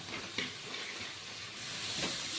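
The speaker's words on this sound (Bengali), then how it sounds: "হলদির গুঁড়ো দিয়ে মশলাটাকে একটু ভালো করে ভেজে নেব" A spice paste with turmeric fries in a pan, giving a soft, continuous sizzle and hiss with a few light crackles, faint and close, no talk.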